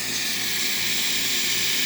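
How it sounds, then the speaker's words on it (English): A steady, loud hiss of steam rushing from a Breville espresso machine's steam wand after a solenoid valve repair, continuous and close with no pauses. "Steam of this machine"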